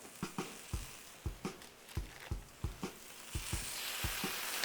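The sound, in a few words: smash burger patties sizzling on griddle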